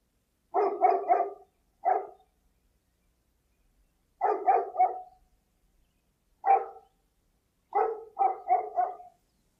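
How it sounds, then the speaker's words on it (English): A Norwegian Elkhound barks in quick bursts of two to four sharp barks, with short pauses between the groups, loud and close, with no other sounds. "as shown by this Norwegian Elkhound at work"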